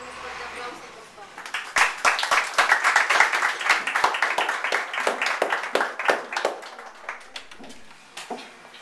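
A crowd at a community gathering in Santa Ana, El Salvador, applauds as a councillor is introduced: a dense burst of clapping that swells after a quiet start, holds steady, then thins into scattered claps.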